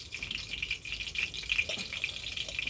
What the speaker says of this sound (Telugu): ఈ ఆయిల్ ఉంది కదా, అందులో దొండకాయలు వేసుకున్నాం